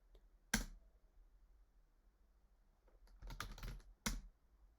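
Typing a command on a computer keyboard: a sharp isolated keystroke, a pause, then a short quick burst of clicking keys and a final tap, close and clear in a quiet room.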